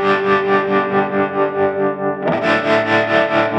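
Electric guitar played through an Axe-Fx III with a tremolo effect, a sustained distorted tone pulsing in steady volume waves, with a fresh chord struck partway through; loud and close, no talking.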